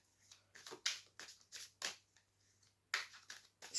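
A deck of tarot cards shuffled close up, repeated soft papery riffles and slaps in quick irregular bursts, quiet and without speech.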